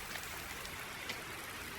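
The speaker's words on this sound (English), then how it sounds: "the rain has finally appeared, like I said it would do" Steady rain in the farming video game Farming Simulator 19, a constant even hiss of falling water with faint droplet patter and no voices.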